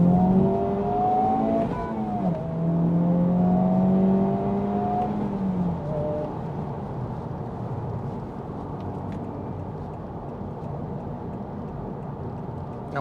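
A Honda Civic Type R FL5 with a manual gearbox pulls away toward the highway, its engine note climbing as it accelerates, dipping at a gear change, then settling into a steady cruising hum.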